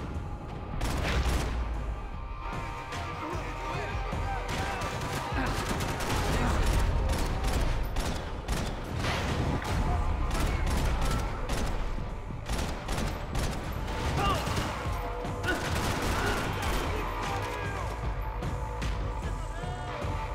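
Player's gun firing in the Max Payne 3 shooter, rapid bursts of gunshots and heavy impacts crackling loudly and densely throughout, with a voice talking over the battle.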